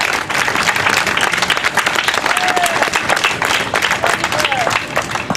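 Applause from a crowd at an outdoor political rally, a steady wash of clapping that holds for several seconds with a faint voice underneath.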